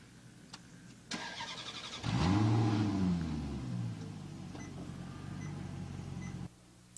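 A Maserati sports car engine played back through an iPhone app starts with a sharp burst, then revs loudly and settles into a steady rumbling idle before cutting off abruptly.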